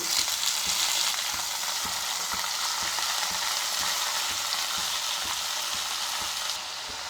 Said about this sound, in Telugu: ఇప్పుడు దీనిలోకి మనం తరిగి పెట్టుకున్న పాలకూరని యాడ్ చేసుకున్నాం